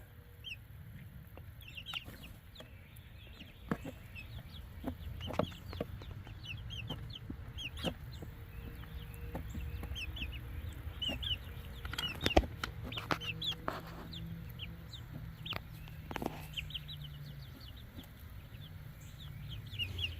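Wyandotte chickens cluck steadily near their coop, soft repeated calls close by and layered over one another with no talk.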